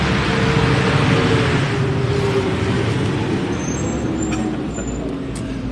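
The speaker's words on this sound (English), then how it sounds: "the Groot garbage truck just drove by" A garbage truck drives past on a Tuesday morning, its loud, steady engine rumble and road noise filling the whole stretch before easing off slightly toward the end, with no talking.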